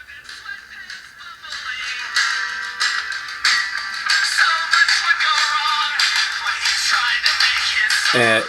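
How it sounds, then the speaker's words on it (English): Music from Spotify plays through the small speaker of a UWatch U8 smart watch, thin and tinny with no bass, continuous for several seconds and ending in a short rough buzz. "we're going to go ahead and play music through the watch"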